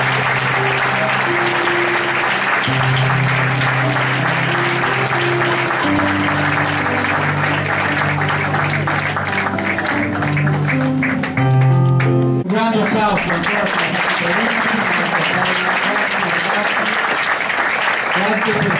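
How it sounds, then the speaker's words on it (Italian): A theatre audience applauds after an Italian comedy, with dense sustained clapping filling the hall throughout and music and other sounds mixing in near the end. "Applausi."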